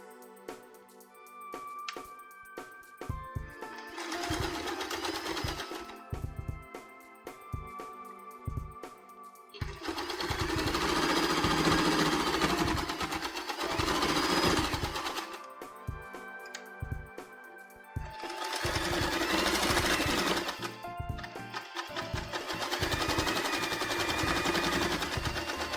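Sewing machine stitching the front sides of fabric pieces together for a double Celtic knot headband, running in several loud bursts of rapid mechanical chatter with brief pauses between them.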